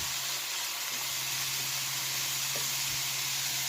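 Onions sizzling in a hot pan while being stirred: a steady, dense hiss throughout with a low hum beneath and a few faint clicks, with no talking.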